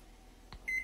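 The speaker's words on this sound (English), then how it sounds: "So I'm gonna set my timer to 20 minutes." A kitchen timer is set in a quiet kitchen during a cooking session, giving one short electronic chirp followed moments later by a slightly longer steady beep, both faint against a low background hum.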